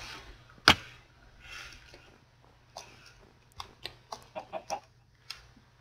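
Chickens in the Minecraft video game give short, clipped clucks, one sharp sound early and then a quick run of separate pecking clucks near the end over a low steady hum.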